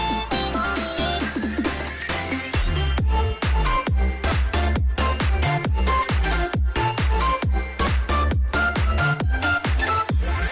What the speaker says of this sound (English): I remind myself of a very fast future house track that I like